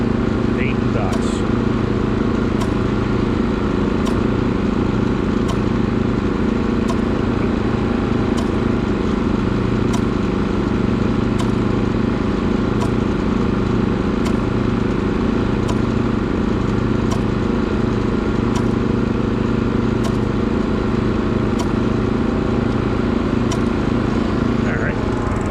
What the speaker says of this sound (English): Drive down and paint the dots.